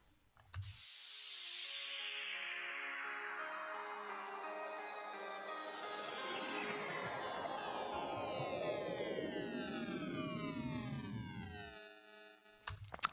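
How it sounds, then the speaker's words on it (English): A harp synth run through a bit crusher as a metalcore synthwave outro effect gives a gritty, digitally degraded shimmer with long descending and rising sweeps, faint and continuous, framed by short clicks at the start and end. "it's just me running the harp synth into a bit crusher"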